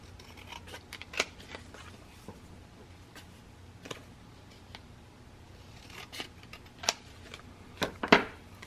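Scissors cut paper for a scrapbook mini album, sounding as sharp irregular snips and crisp crinkles up close, a few louder clustered cuts near the end over quiet room tone.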